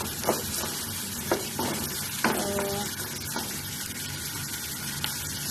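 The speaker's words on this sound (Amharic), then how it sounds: "ሽንኩርቱን እየጠበስኩ ነው።" Onions frying in a pan for a Chinese-style macaroni dish, a steady close sizzle with occasional stirring clatters and scrapes, no talking.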